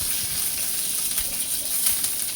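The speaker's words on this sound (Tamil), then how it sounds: "கொஞ்சோண்டு கடுகு, அப்புறம் கறிவேப்பிலை போடுங்க. கடுகு பொரிஞ்ச உடனே கறிவேப்பிலை," Mustard seeds and curry leaves crackling in hot oil for a vegetable pasta: a steady, close sizzling hiss with scattered faint pops running throughout.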